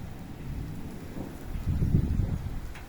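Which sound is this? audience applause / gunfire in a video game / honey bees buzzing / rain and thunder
rain and thunder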